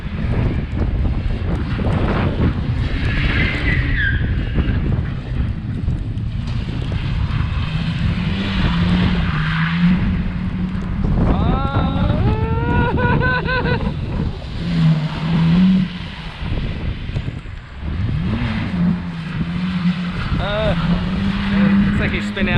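An all-wheel-drive Mitsubishi EVO X drifts and spins out on a stormy day, its engine revving and rising in pitch over heavy wind rumble, with people talking nearby.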